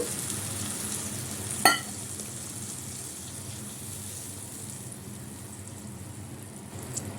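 Mustard curry with aubergine sizzling in a pan after a splash of water, a steady low hiss with a brief sharp clatter near the start and a faint tap near the end.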